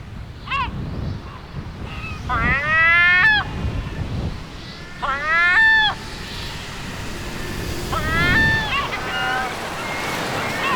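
Herring gulls give several loud, laughing call bursts over beach surf and wind noise, with a voice speaking in between.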